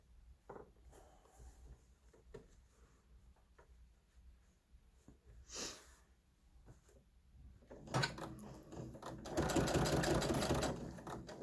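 A sewing machine fitted with a binding foot stitches in short runs, with clicks and handling noises between them, ending in a louder, steady burst of rapid stitching.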